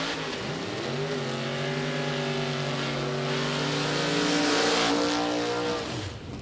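Drag race cars at a buyback round of door cars rev hard and launch, a loud, sustained engine roar with rising pitch that swells near the end and then drops away.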